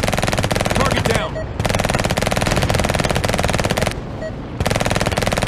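Helicopter cannon fire in the VR flight game Warplanes 3 runs as loud, rapid, continuous automatic bursts, broken by two short pauses, with the helicopter's engine droning beneath.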